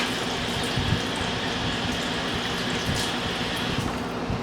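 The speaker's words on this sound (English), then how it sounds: "We'll run water over it, clean it," Tap water runs steadily over a homegrown turkey gizzard in a sink, a continuous close splashing stream with small irregular spatters breaking through, no one talking.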